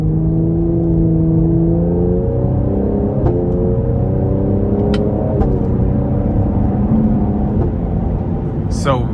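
A 2024 Cadillac CT5-V twin-turbocharged engine pulls hard in manual mode under moderate throttle, a steady loud rising drone with harmonics climbing through the gears, with someone talking over much of it.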